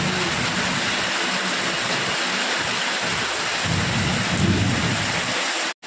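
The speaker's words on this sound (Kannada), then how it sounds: "ಕಂಟಿನ್ಯೂಸ್ ಆಗಿ ಮಳೆ ಬರ್ತಾಯಿದೆ" Heavy continuous rain pours down in Mandya with deep rumbling thunder rolling beneath the loud, unbroken roar of the downpour.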